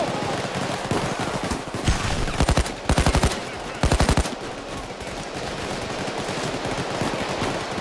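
Automatic gunfire from the player's gun in the PAYDAY 2 heist game, several short rapid bursts of loud shots in the middle, over a busy background of game noise and faint voices.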